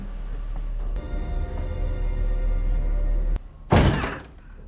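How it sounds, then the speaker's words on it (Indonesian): A single loud thunk like a door swinging or knocking open cuts through a steady low hum, followed by a brief noisy rush that fades. "dia terkejut mendengar suara pintu yang terbuka"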